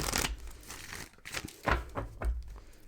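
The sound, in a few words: tarot cards being shuffled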